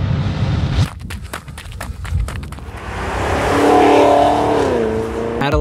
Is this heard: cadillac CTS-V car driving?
yes